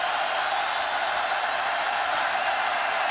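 A stadium crowd at a 49ers at Chiefs preseason football game roars steadily as third down approaches, a continuous dense swell of cheering and whoops with no break.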